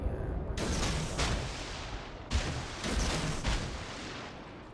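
Battleship main guns fire in a naval video game, a few heavy booming salvos in quick succession with rumbling tails, loud and close.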